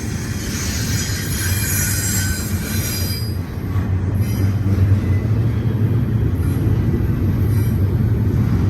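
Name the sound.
eastbound freight train with stack of international containers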